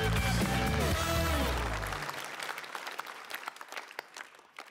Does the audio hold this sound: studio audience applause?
yes